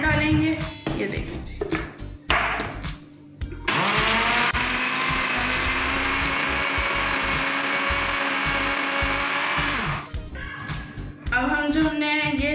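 An electric blender whirs loudly and steadily for about six seconds while mixing homemade garlic mayonnaise, starting and stopping abruptly, with kitchen handling sounds and a speaking voice before and after.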